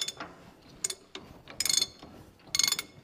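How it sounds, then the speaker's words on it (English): A ratchet wrench clicks as it tightens the hub nut on a Dexter 15k air-brake trailer axle, two close bursts of rapid metallic ratcheting with softer clicks and handling between them. "They recommend you tighten these up to 100 foot-pounds while you're turning"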